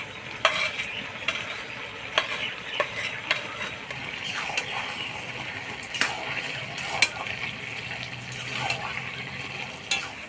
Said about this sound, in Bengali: চিংড়ি মাছটা দিয়ে লাউয়ের সাথে নাড়াচাড়া করে নিলাম